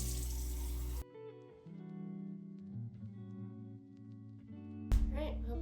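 Water running from a kitchen tap at close range in a home baking setting, a steady hiss that starts, stops after about a second, then starts again near the end, with quiet background clatter in between.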